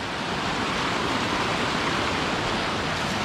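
A river flowing through a forest, steady broadband rushing water that holds at an even level without a break.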